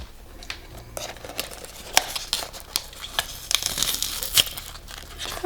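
A cardboard box for a Skullpanda collectible toy is torn open, giving a series of scattered crinkling, ripping and rustling bursts at close range, some sharp and others softer, with no voices.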